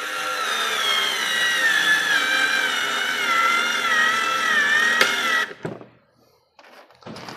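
A Daewoo 3.6 V cordless lithium screwdriver whines steadily for about five seconds while driving a screw into wood, stops with a sharp crack from the wood, and is followed by quiet handling noises.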